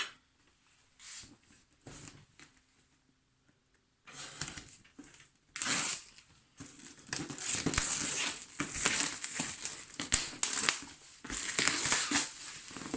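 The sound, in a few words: opening a cardboard box with crinkling wrapping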